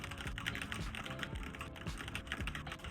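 Steady, rapid typing on a computer keyboard during a speed typing test, a dense run of clicky keystrokes continuing for the whole stretch with no talking.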